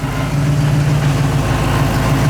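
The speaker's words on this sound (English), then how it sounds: "Also, I'm sorry about the construction noise." Steady low engine rumble with a constant drone, like heavy construction machinery idling nearby, loud and continuous with no pauses.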